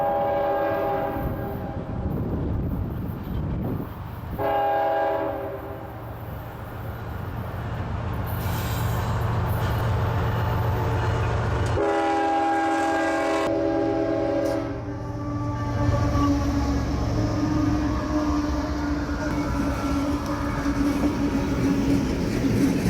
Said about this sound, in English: another eastbound merchandise train heads down the mountain